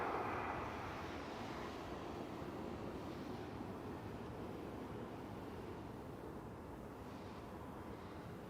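Jazz airliner taking off at Toronto Pearson airport, a broad, distant jet engine roar with wind noise that stays fairly steady and slowly recedes.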